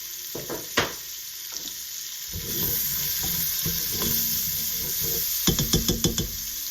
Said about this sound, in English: I'm just going to take this, put the onions and garlic in there.